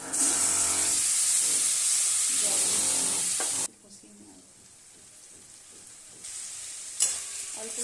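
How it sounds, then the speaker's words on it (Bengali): Ground cumin and spices sautéed with a splash of water in a pan, a loud steamy hiss that suddenly drops away, leaving soft stirring and faint sizzling with a brief clink near the end. "জল দিয়ে একটু কষিয়ে নিলাম"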